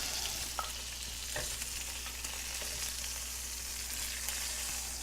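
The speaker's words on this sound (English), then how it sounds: "putting the longanisa in, and we're going to want to get this nice and brown" Longanisa sausage browning in a pan, a quiet continuous sizzle with a low steady hum underneath and a few light stirring clicks.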